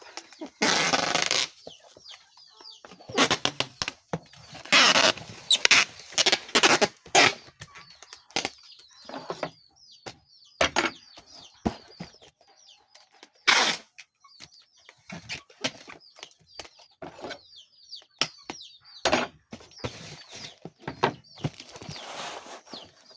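A live chicken meant as a gift for a grandfather's 107th birthday clucks and flaps in short bursts, close by, amid rustling and handling noises with long quiet gaps.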